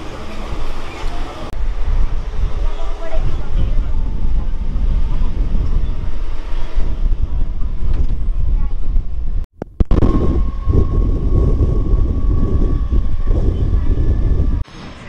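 A local train on the Pune to Lonavala line, heard from its open doorway: a loud, steady roar of wheels and carriage rumble with heavy wind buffeting, briefly cutting out before resuming.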